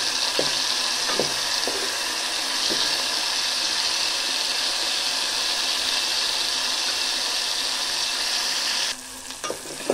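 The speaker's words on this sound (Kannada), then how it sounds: "ಚೆನ್ನಾಗಿ ಬೇಯಿಸ್ಕೊಳ್ಳೋಣ ಎಣ್ಣೆ ಒಳಗೇ." Oil sizzles and fries steadily in a pan while egg sambar is prepared, a dense continuous hiss with a few stirring clinks, close and fairly loud, cutting out near the end.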